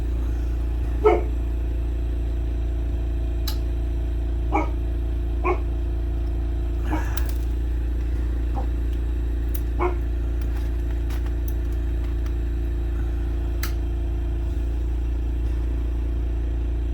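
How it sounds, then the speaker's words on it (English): A dog barks in short single woofs scattered across a long stretch, moderately near, over a loud steady hum from a lampwork bead-making torch setup. "what good is barking if you're sitting in here instead of checking to see what's going on?"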